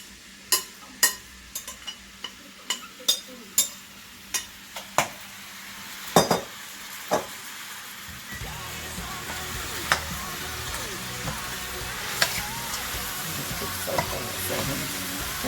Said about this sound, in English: I'm finna put this in here, y'all, so it can fry up and it can cook